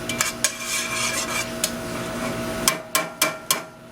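Shallot and garlic stirred in a pan, with a spoon scraping and knocking against the metal in several sharp clacks, the last few spaced close together, over a steady background hiss.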